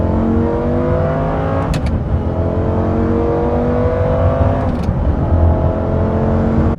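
A 500-horsepower sports car with a gated manual transmission revs hard and loud, its engine note climbing in repeated sweeps as it winds out, with brief breaks between pulls.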